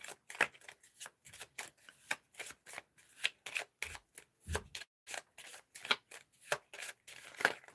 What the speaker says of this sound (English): Oh no, man, I just can't shuffle tonight.